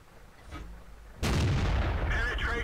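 A T20 tank cannon fires in a video game replay, one sudden loud boom that rings out and fades over the last second.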